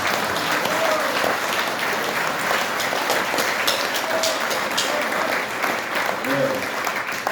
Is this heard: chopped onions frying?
no